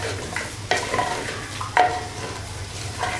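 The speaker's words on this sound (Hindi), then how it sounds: "एक बार अच्छी तरह से हिलाकर हम मिक्स कर लेंगे" A spoon stirs spices and garlic cloves with mutton in a clay pot over high flame, giving soft scraping strokes and a light sizzle, quiet and close with no talking.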